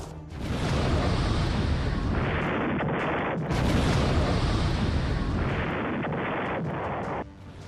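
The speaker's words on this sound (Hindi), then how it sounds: "दक्षिण कोरिया ने एक के बाद एक 3 मिसाइलें चला डाली" Missile launches by South Korea in news footage: two loud, sustained roaring blasts follow one another, each a dense broadband rush that holds steady for several seconds before cutting off.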